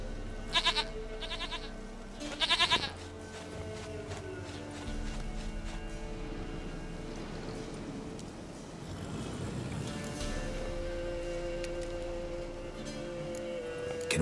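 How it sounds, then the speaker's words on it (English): Short, sharp bleats from a goat in The Witcher 3 come in two quick bursts early on, then quieter game ambience with faint hoof clops and a low hum follows, with another muffled bleat later. "Goat of mine! Dearest, sweetest goat!"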